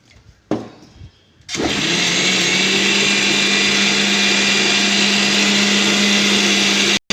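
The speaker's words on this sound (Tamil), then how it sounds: "இப்போ கொஞ்சம் சீரகம் போட்டு அதில் அரைச்சிக்கிடுவேன்" An electric mixer grinder grinds cumin seeds in a home kitchen, starting with a couple of short bursts and then running in a steady, loud, high whine for several seconds before cutting off abruptly.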